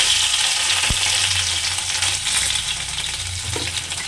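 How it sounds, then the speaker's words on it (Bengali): Parshe fish fry in hot oil in a wok with a loud, continuous close-up sizzle, and a few faint clinks of a utensil sound over the steady crackle. "তেলটাকে ভালো করে গরম করে মাছগুলো এক এক করে দিয়ে দিচ্ছি।"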